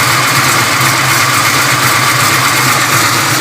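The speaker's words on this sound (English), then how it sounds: "You'll hear mostly pistons and rockers here. It's pretty quiet." A 1996 Impala SS V8 idles steadily at about 850–900 rpm, a continuous, fairly loud mechanical hum with light ticking from pistons and rocker arms, close up and with no talk over it.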